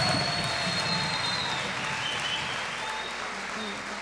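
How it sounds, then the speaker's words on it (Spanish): Dense, sustained applause from a large TV talent show audience fills the whole stretch, loud and even, tapering slightly toward the end. "Un aplauso fuerte, por favor."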